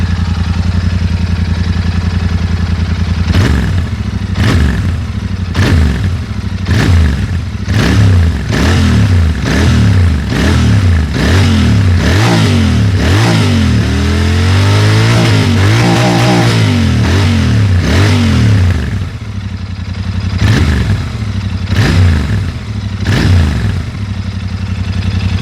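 A Royal Enfield Continental GT motorcycle with dual exhausts is revved hard and repeatedly up close, in sharp rhythmic bursts. In the middle it holds one longer rising rev, then drops back to short blips over a loud idle.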